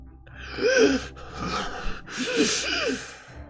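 A voice imitates ragged, gasping breaths, several strained inhales and exhales with a raspy, breathy quality, close up.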